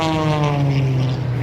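A yellow World War II Mosquito propeller plane drones past at the 2021 Marine Corps Air Station Cherry Point air show, a loud, steady engine hum with a slowly falling pitch, heard alone and close.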